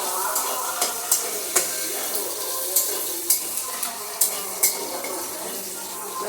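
Onions frying in a pan for a Gobindobhog rice and soybean ghonto, a steady close sizzle broken by sharp clicks and scrapes of stirring spaced through the clip, with no talk.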